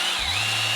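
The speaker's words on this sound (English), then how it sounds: "what you need to do is drill a couple holes here." Power drill boring holes for the bolts of a Mishimoto radiator on a MK7 GTI, a short close steady whine as the motor spins up.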